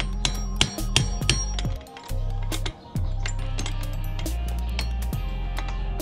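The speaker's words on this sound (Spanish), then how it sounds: "Le voy a dar con el martillo." A hammer strikes a recycled axle to knock out a BMX bearing, a series of sharp metallic hits at irregular intervals over a steady low mechanical hum, close and loud, no talking.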